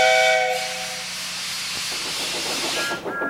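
A toy-train steam whistle from Thomas the Tank Engine sounds a steady held tone with a soft hiss of steam, then fades into hissing and faint rumbling before a brief second whistle note near the end.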